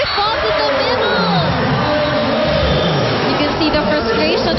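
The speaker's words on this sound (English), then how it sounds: "Crowd is into this game right now" A lively crowd at a UAAP Season 73 women's volleyball match between NU and FEU, with loud, sustained cheering and babble that fills the arena throughout.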